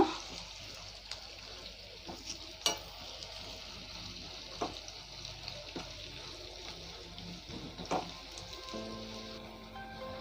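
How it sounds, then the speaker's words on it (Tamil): Onions for a vegetable dum biryani fry in a pan with a steady, soft sizzle and occasional stirring clicks, close but fairly quiet. "இப்போ நம்ம கட் பண்ணி வச்ச வெங்காயத்தை இதில் ஆட் பண்ணிடலாம். வெங்காயத்தை நல்லா ஃப்ரை பண்ணிக்கோங்க."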